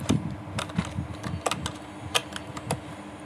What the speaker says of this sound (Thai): สิ่งที่ได้ยินเสียงคีย์บอร์ดครับผม